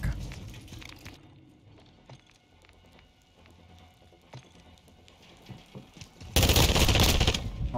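Machine gun fire in Call of Duty MW2 during a 1v1 match, scattered sharp shots early followed by a sudden loud sustained burst of rapid automatic fire at the end, with a voice heard faintly between.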